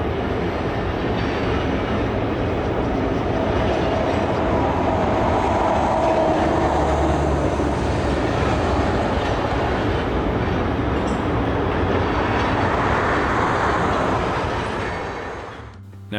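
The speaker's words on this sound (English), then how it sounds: "Now is a look at 3854 southbound in February, about to make its way over the Cushman Bridge." A southbound train led by locomotive 3854 crosses the Cushman Bridge, a swing-span railway bridge on the Coos Bay rail line in February. The rumble holds steady and fairly loud throughout, then tapers off near the end.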